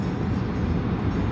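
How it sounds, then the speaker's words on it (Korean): A train heading to Soraepogu station rumbles past with a low, continuous rolling roar, steady and moderately loud throughout, with no talking. "소래포구역으로 가는 기차입니다."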